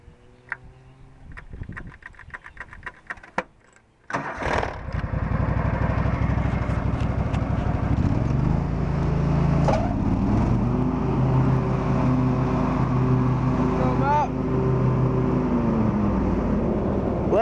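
A riding lawn mower with an electric PTO is cranked over and catches at about four seconds, then runs at a loud, steady idle with a droning engine hum that continues alone to the end.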